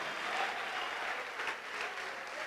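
A congregation at a church service claps together in sustained, dense applause, steady and fairly loud across the whole stretch with a faint murmur of voices underneath.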